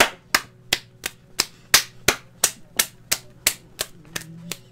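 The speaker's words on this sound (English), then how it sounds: "now I'm clapping because I don't know why" Sharp, close hand claps repeat at a steady, even pace, about a dozen crisp strikes a few tenths of a second apart, over a faint low background hum.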